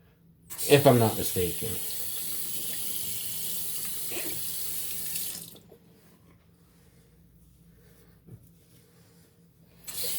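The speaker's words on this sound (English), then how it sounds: "Let's rinse off the hands, dry them up." Tap water runs steadily into a sink for about five seconds while hands are rinsed before a vintage shave, with a few splashes and knocks, then cuts off to near quiet with faint handling noises.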